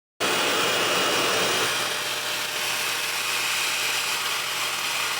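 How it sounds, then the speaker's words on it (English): A hair dryer used for styling a little girl's hair switches on abruptly and runs loudly and steadily, a harsh rushing whir of air that holds without pause. "So clearly this is loud like a traditional blow dryer"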